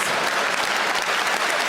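Dense, loud applause from a live stand-up comedy audience, a steady wash of many hands clapping together with no voices on top.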